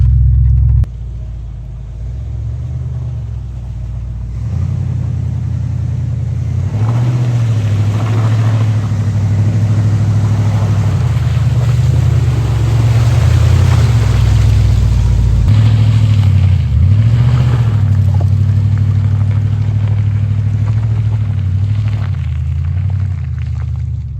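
An old Ford Bronco off-roading through deep, slimy mud holes, its engine a loud, continuous low rumble that rises and strains as it pushes through.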